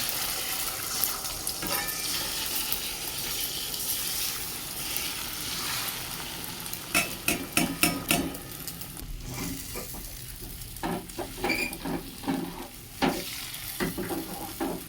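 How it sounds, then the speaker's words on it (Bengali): Beaten egg fries in hot mustard oil in a wok, giving a continuous sizzling hiss, with bursts of louder scraping and spluttering partway through, close by and without speech. "কড়ায় কিছু পরিমাণ সর্ষের তেল দেবো তেল গরম হলে ডিমটা ঢেলে দেবো মানে ডিমের ফাটানো গোলাটা"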